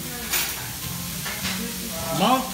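A steady sizzle from an onion volcano frying on a teppanyaki hibachi grill at a Japanese restaurant, with soft scraping and a voice briefly heard near the end.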